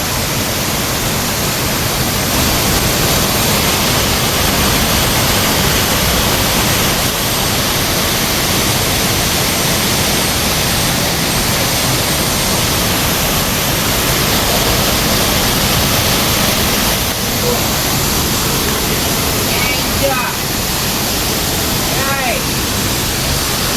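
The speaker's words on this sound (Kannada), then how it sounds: "ಮೇಲ್ಗಡೆ ಮಳೆ ನೀರಿಂದ ಈ ಥರ ಆಗಿ ಕಲ್ಲು ಮಧ್ಯದಲ್ಲೆಲ್ಲ ಬಂದು ಇಲ್ಲಿ ಫಾಲ್ಸ್ ಥರ ಬರುತ್ತೆ ಇಲ್ಲಿ ನೀರು" Continuous loud rush of rainwater falling in a small waterfall over rocks, splashing, a steady broadband roar filling the whole stretch without pause.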